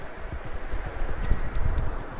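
Horse hooves clip-clopping in the Red Dead Redemption 2 video game, a steady run of dull thuds at close range over a low rumbling game soundscape.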